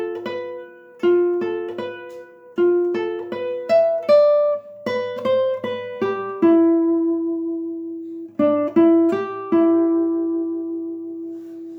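The Lost Woods melody line played alone on guitar as clear plucked notes in short rhythmic phrases, some notes left ringing, with a brief pause before the phrase repeats.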